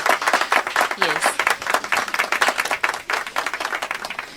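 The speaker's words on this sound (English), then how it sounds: "Kindly give them a round of applause." Audience clapping after a school group's performance at a TV personality award event, a dense sustained burst of applause that fills the whole stretch, with some voices mixed in.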